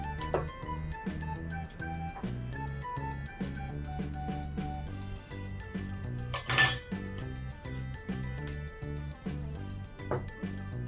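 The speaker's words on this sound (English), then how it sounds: "we're going to stir everything together" A utensil stirs beaten eggs into chocolate brownie batter in a bowl, giving repeated close clinks and scrapes in a steady rhythm, with one louder knock partway through and no talking.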